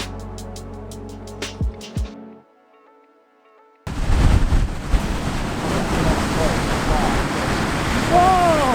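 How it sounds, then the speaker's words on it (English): Strong wind roars and buffets across the microphone on a pebbly beach on the Mornington Peninsula, after a few sharp knocks and a short quiet pause, with surf rumbling steadily underneath. "It is so windy"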